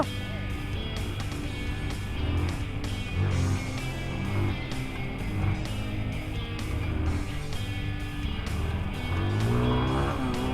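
Panda 150 motorcycle ridden at a launch event during an ABS braking test, with engine noise rising and falling and brief squeal-like bursts under a steady background rumble, fairly faint throughout.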